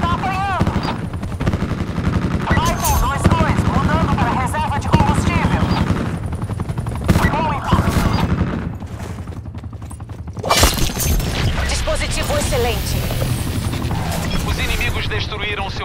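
Attack helicopter getting shot down in a Call of Duty match: dense gunfire, crashing and shattering bursts with mechanical rotor-like noise, loud and continuous over game voices.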